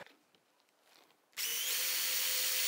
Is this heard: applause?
no